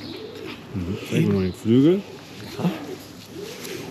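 A racing pigeon coos in soft, low throaty rolls, close by, while someone talks in German over and between the calls.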